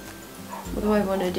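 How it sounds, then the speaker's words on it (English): Dogs bark in the background of a home makeup session while someone talks close to the microphone, the barks partly masked by her voice. "I'm sorry about the dogs."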